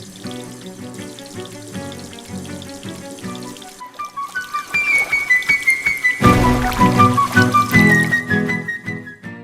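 Cold water pours and splashes steadily to rinse dirt off, growing louder and heavier partway through as the stream continues.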